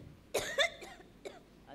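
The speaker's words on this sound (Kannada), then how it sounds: "ಕೆಮ್ಮು ಅಂತ ಬಹಳ ನ್ಯಾಚುರಲ್ ಆಗಿ ಬಂದಿದೆ" An elderly woman acting a grandmother on stage gives a short bout of coughs, two sharp hacks followed by a softer one, fairly close and quiet, with no speech.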